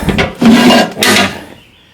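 A wooden drill drawer on the side of a workshop cabinet slides with two scraping strokes, one out and one back, close and loud, ending in a brief thump and silence.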